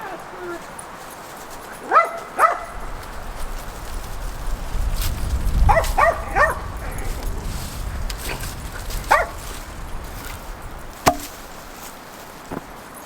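A puppy gives several short, high yips and barks in a garden, scattered in small bursts over soft outdoor ambience while a person talks gently nearby.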